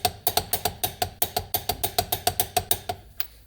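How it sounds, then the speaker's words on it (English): Torque wrench tightening a wheel on a 2007 Subaru Forester, set to 72 foot-pounds: a steady run of about fifteen loud, close ratcheting clicks at an even pace, with no talk. "Grab your torque wrench, set it to 72 foot-pounds or 97 Newton meters."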